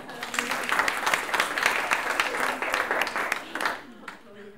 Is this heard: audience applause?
yes